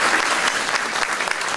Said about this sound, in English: a brief round of applause for Dr. Calderon